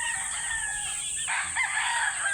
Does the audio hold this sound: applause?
no